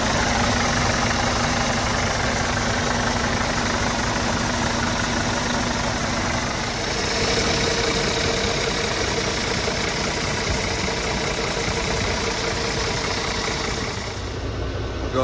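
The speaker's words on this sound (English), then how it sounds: "That's a fully assembled Scania engine." A rebuilt Scania truck engine idles steadily and loudly for the full length, a dense even rumble with a slight change in tone midway, and no talking over it.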